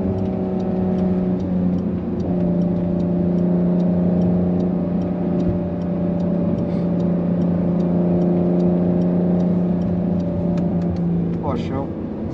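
A race car laps the Pinheirinho circuit in Brazil, its engine droning loud and steady throughout, pitch shifting slightly as it runs on, with no talk over it.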